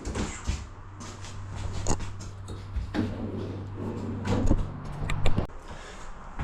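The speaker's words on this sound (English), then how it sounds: "Soft closed doors." Soft-close cabinet doors in a converted bus shut one after another: soft thuds and light clicks at irregular intervals over a low steady hum, fairly close by.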